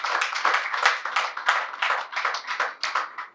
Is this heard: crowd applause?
yes